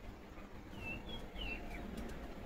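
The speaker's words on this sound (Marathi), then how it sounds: "पक्ष्यांचा आवाज येतोय ना" Birds calling outdoors in farm fields, a few faint thin chirps and whistles over a low ambient background, no voices.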